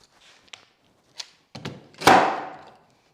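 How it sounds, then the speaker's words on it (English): A chisel strikes and cuts into wood while a chair is being built, giving a few separate sharp knocks that build to one louder, ringing impact near the end, with quiet gaps between them. "Using the chisel"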